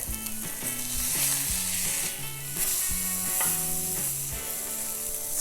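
A big burger patty fries in a hot pan with a steady, close sizzle that carries through the whole moment, partly covered by a melodic background tune.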